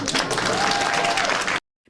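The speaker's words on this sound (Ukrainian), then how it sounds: "бурхливі оплески" Wedding guests burst into applause after a couple is pronounced husband and wife, a loud wash of clapping that cuts off abruptly near the end, leaving near silence.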